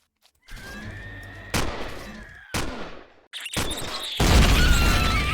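Heavy blasts and booming impacts in Empyrion Galactic Survival, several loud near bursts one after another with crackling debris and rumble trailing each, ending in a sustained roaring blast.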